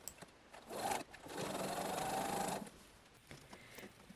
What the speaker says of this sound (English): Then sew your blocks together into rows.